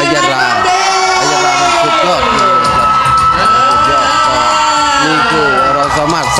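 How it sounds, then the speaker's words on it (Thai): A large audience at a celebration stage event cheers and screams with loud, sustained crowd noise and shrill whoops filling the whole stretch, with applause blended into the roar. "ปรบมือพร้อมเสียงกรี๊ด"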